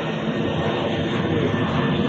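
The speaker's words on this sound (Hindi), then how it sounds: "देखिए व्यूअर, एरोप्लेन जा रहा है," An airplane passes close overhead, a loud, steady broadband engine roar that fills the whole clip without a break.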